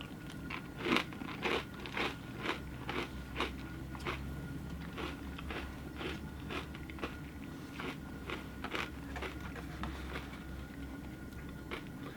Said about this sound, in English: let's get the spoon out and hear the crunching of the very crunchy cereal.